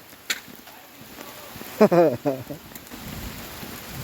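Rain falls outdoors in a soft, steady hiss, faint and diffuse, while someone speaks briefly over it.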